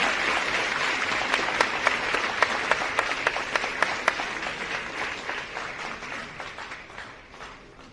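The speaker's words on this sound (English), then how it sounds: "let's give the Deputy President and the ministers a big round of applause as they make their entrance to the stage" An audience at a South African national service institute launch applauds the Deputy President and ministers as they enter the stage, steady crowd clapping with a few sharp nearby claps standing out, tapering off at the end.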